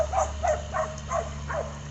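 Dogs on a cattle farm during calving season bark and yip in a steady run of five sharp calls, fairly close, over a low constant background hum.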